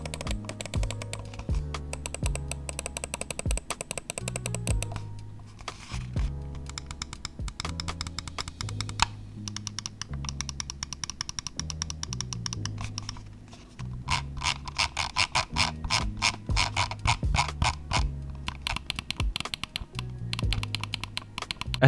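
ZOWIE U2 gaming mouse: quick runs of crisp, close main-button clicks alternating with ratcheting scroll-wheel notches, a dense tapping rhythm with short pauses between bursts.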